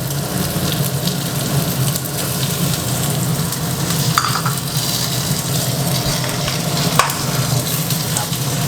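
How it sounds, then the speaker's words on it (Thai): Shrimp dropped into a pan of stir-fried aromatics sizzle loudly and steadily throughout, with a faint clink or two from the pan and no talking. "หลังจากเราผัดมาจนหอมสักครู่นะครับเราจะใส่กุ้งนะครับ"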